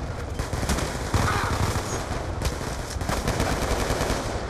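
Rapid automatic gunfire in the video game Call of Duty Black Ops 2, dense loud bursts of machine-gun shots rattling continuously with overlapping rounds.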